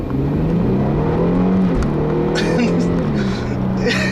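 A 2012 Infiniti G37 Journey accelerating hard, its engine note rising loud and close from inside the car as revs climb, briefly dipping at a shift before pulling again.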